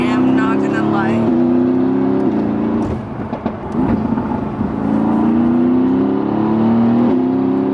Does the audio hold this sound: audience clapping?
no